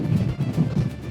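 Strong wind buffets the microphone at a coastal viewpoint on Cap Corse, Corsica. The rumble is loud and gusty and comes in pulsing surges with no speech.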